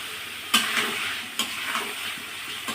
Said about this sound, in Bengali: হালকা জালে সুন্দর করে আস্তে আস্তে আমি একটু নেড়ে নেব।